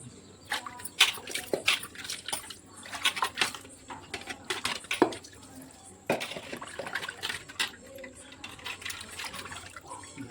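Fish being washed by hand in salty water, with irregular splashes and sloshing bursts, some sharp and close, separated by brief quieter gaps.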